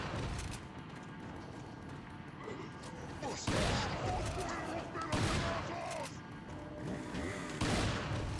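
Gunfire in the video game Resident Evil 4, repeated loud shots in rapid bursts over a busy game soundscape, with several sharp blasts standing out.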